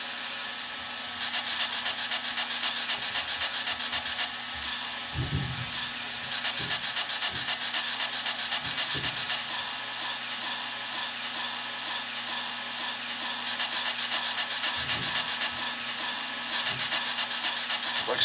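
An MTH RailKing 0-6-0 B6 steam switcher model locomotive with Proto-Sound 3.0 gives off a loud, steady steam hiss throughout, broken by occasional low clanks and thumps.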